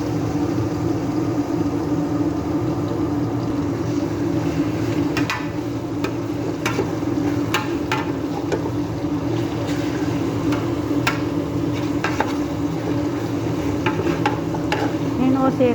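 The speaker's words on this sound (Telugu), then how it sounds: "ఇప్పుడు ఆ మటన్ ఇందులో వేస్తున్నాను." Marinated mutton with chili, masala powder and yogurt going into a cooking pot, a steady loud sizzle with scattered scraping and stirring clatters throughout.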